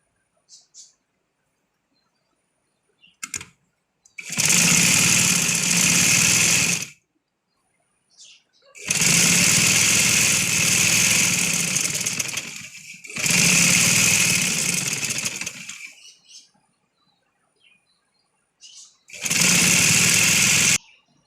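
An electric sewing machine stitches palazzo lining in four bursts of rapid, loud, even whirring, separated by pauses with faint handling noises.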